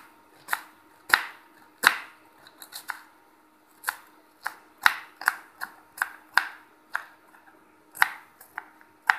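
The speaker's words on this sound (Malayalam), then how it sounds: "ഇതുപോലെ കുനുകുനേൻ്റെ സവാള അരിയണം." An onion is finely chopped with a knife on a cutting board, producing sharp irregular taps close by, sometimes in quick bursts and sometimes with pauses, in a quiet room with no voices.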